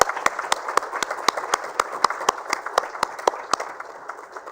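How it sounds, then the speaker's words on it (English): Audience applause at an Indian sanitation awards ceremony, steady crowd clapping with sharp individual claps standing out in a fairly regular rhythm, thinning slightly toward the end. "let all of us give a big round of applause"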